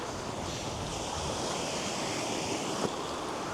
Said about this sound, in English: I just want the water just lapping around this rock and going back out